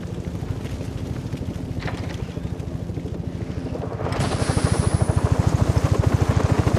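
Helicopter in the video game Batman: Arkham Origins, a steady rhythmic rotor thump with wind rush that grows louder and nearer toward the end, heard alone without speech.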